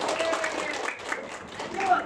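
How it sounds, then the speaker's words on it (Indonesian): Classroom applause from a group of students rises as scattered, fairly close clapping, moderate in level, with voices talking over it throughout. "benar semua, tepuk tangan."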